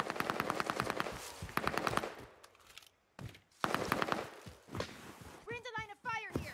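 Rapid bursts of machine gun fire in a first-person shooter set in Caldera, close and loud, with a pause of quieter gameplay between bursts and players chattering over the action.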